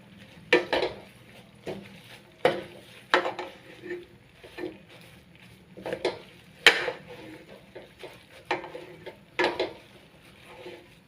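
Jute leaves (saluyot) and beef being stirred in a cooking pot, with repeated clacks and scrapes of a utensil against the pot in an irregular rhythm, close and moderately loud, with no talking.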